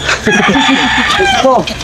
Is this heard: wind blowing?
no